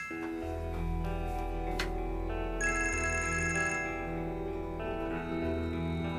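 A telephone rings indoors with a steady electronic ringtone melody, tonal and sustained across several seconds, moderately quiet with no talking over it.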